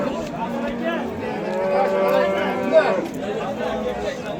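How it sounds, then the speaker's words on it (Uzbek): A bull at a busy cattle market in Namangan gives one long, deep, drawn-out moo that swells and fades, heard over the murmur of the crowd and people talking nearby. "Sigir bozorga adashib kirgan buqa."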